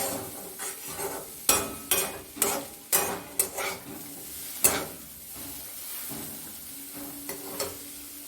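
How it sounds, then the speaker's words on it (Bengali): Vegetables for a veg chow mein stir-fry in a pan, with a string of quick metallic scrapes and clanks from the spatula over a soft continuous sizzle, which then settles into a quieter hiss. "সবজিগুলো ভাজা হয়ে এসছে"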